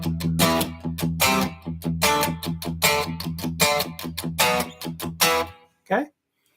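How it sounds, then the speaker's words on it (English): Tight, chopped electric guitar power chord downstrokes, palm muted on the low E, in a fast even run of short bursts lasting over five seconds. A brief stray sound follows, then silence. "So we're going to strum that power chord and then cut it off."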